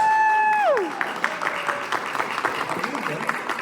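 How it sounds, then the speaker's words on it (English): A sustained tone glides downward and cuts out, giving way to scattered applause from a convention audience at an animator talk, moderately loud and fairly close. "Give a big round of applause."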